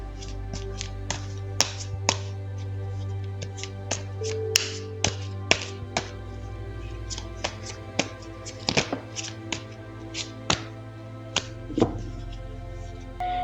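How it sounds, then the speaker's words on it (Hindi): Tarot cards are shuffled, giving irregular sharp snaps and taps close by over a steady low hum, with no talk. "तो चलिए पहले ज़रा कार्ड्स को शफल कर लेते हैं।"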